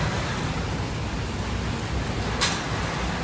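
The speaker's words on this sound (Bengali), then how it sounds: "অনেকটা বৃষ্টি পড়ছে।" Heavy rain falling outside, heard as a steady broadband rushing hiss with a faint brief sound rising over it near the end and no talking.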